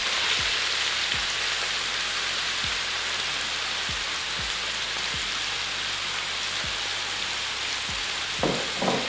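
Oyster mushrooms sizzle in a hot frying pan with a steady, dense crackling hiss, dotted with periodic low thumps and a brief louder burst of spatter near the end; no talking.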